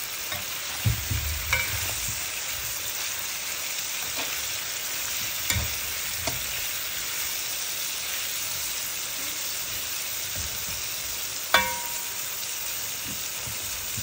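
Carrots and bell peppers stir-frying in a hot pan for a Thai-style meat dish, a constant loud sizzle broken by a few sharp scrapes and clacks of a utensil, no talking.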